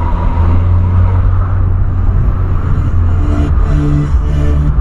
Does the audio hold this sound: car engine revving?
yes